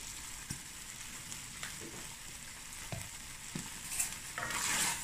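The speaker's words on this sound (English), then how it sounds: "Give it a stir." Cape Malay sugar bean bredie being stirred in a pot on an island stove, with a soft steady sizzle under a few light scrapes and knocks of a spoon, growing slightly louder at the end.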